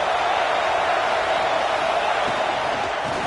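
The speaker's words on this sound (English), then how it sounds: "This crowd bringing the energy and noise early." Stadium crowd in the NCAA 26 college football video game, a continuous broadband roar of fans at steady loudness, with a faint voice underneath.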